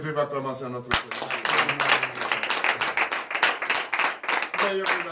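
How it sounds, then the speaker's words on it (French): A congregation at a morning prayer service in Benin claps steadily in rhythmic unison after a sharp opening clap, loud and close, with voices underneath. "donnez de vive acclamation à notre Seigneur"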